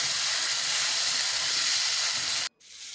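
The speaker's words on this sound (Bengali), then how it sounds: "এই করলাগুলোকে আমি লাল লাল করে ভাজছি ভর্তা বানানোর জন্য" Bitter gourd slices fry in reused fish-frying oil, giving a loud, steady, close hiss and sizzle that stops abruptly near the end, leaving quieter background sound.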